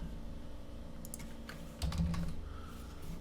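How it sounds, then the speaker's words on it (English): Fast typing on a computer keyboard, rapid clicky keystrokes in quick irregular bursts, close and fairly quiet, with no talking. "Typing too fast."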